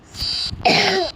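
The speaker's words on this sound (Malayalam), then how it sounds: "എനിക്ക് ചെറിയ ചുമയുണ്ട്" A child coughs twice at close range: a short, throat-clearing hack, a brief pause, then a longer, rougher cough.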